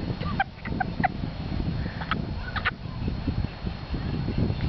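Domestic geese and ducks call outdoors in short honking, clucking bursts scattered through the clip, fairly close, over a steady background of wind and ambient noise.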